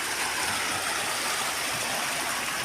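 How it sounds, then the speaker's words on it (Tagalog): Floodwater rushing hard after a landslide, where water ran over one side of a road, gives a loud, dense, constant hiss and roar up close with no voices. "Sobrang lakas ng tubig."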